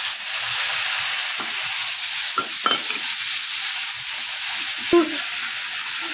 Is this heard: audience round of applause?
no